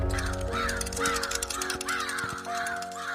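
A crow cawing in a steady run of harsh, evenly spaced calls, close and loud, over a sustained musical background drone.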